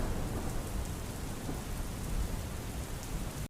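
Torrential rain in a Gujarat village, a dense continuous hiss of downpour with low rumbling thunder underneath, steady and close.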